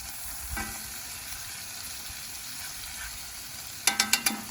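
A burger cooks with butter, onions and garlic on a Big Green Egg grill, giving a low steady sizzle after being flipped, with a few sharp clicks and scrapes near the end.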